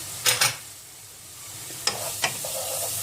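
Cumin, sweet pepper flakes and thyme are stirred in a pan for a meat and dry bean stew, giving a few short scraping strokes over a soft, steady sizzle.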